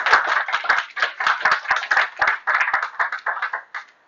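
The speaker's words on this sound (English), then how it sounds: "give her a round of applause for that" An audience at a live career-coaching talk claps steadily for about four seconds, a dense, even patter of hands with no voices over it.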